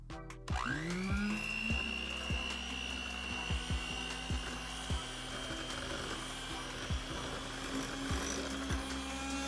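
Granulated sugar being mixed into red velvet brownie batter with an electric mixer, a steady whirring motor hum that starts abruptly and runs on, with repeated light knocks of the beaters against the bowl.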